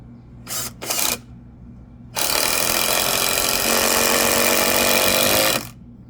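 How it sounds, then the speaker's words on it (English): A power drill drives screws into raised garden bed boards, close and loud: two short whirring bursts, then one long sustained run of several seconds before it cuts off. "he's gonna start screwing them together"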